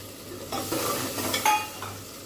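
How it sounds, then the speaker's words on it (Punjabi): Tempering (tadka) sizzling in a pan, a short burst of hot-oil crackle with a few light metallic clinks of a utensil, close and moderately loud, no voices. "ਅੰਦਰ ਤੜਕੇ ਛੜਕੇ ਆਪਣੇ ਲੱਗ ਰਹੇ ਨੇ ਪੂਰੇ ਜੋਰਾ ਸ਼ੋਰਾ ਨਾਲ"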